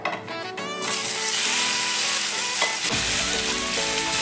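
Tomatoes hit hot oil with a bay leaf and dried red chilli for a festive-style tomato chutney, bursting into a loud, steady sizzle that continues after a brief quieter start, with some stirring.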